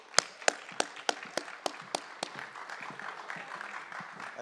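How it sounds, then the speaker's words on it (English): A small NFT.NYC conference audience gives a few sharp, evenly spaced claps, fairly distant and modest in volume, trailing into scattered light clapping and room murmur. "Let's give him a round of applause."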